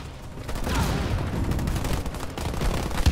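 Marines fire weapons in the Halo Wars 2 strategy game, a dense sustained fusillade of overlapping gunshots and rapid bursts, loud and continuous with no pause.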